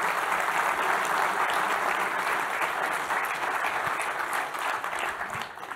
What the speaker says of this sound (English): Please, a huge round of applause for these generous companies